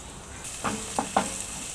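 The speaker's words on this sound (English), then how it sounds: "So now just keep frying everything for 1 minute" Steady hiss of spices frying in a pan for lamb dhansak, with a few brief louder sizzling bursts as ingredients are stirred, close and alone.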